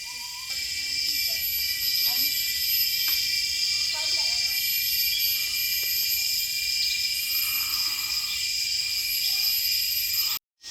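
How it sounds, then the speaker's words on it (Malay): Loud, continuous high-pitched buzzing of cicadas in the Gunung Tampin forest reserve fills the air, steady throughout, with faint background sounds underneath and a sudden cutoff at the very end. "riang-riang dekat sini. Kuat tu bunyi."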